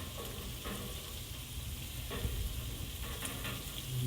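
Food stirred in a cast iron pan for spicy shrimp tacos and queso, giving a steady sizzle with soft scraping strokes throughout, fairly loud and close, with no talking.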